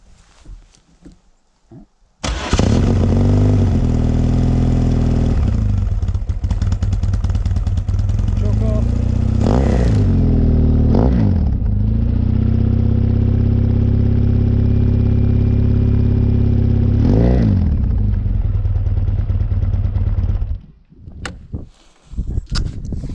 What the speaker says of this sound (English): But here, let's fire it up real quick.